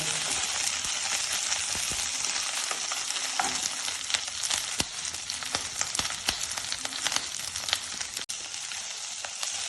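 Capsicum pieces roast in a pan over a medium-high gas flame, giving a steady, close crackling sizzle with scattered sharp pops and occasional stirring clicks throughout, no voices.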